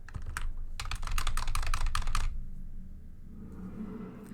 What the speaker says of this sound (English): this is the keyboard that came with my computer. It's very loud and obnoxious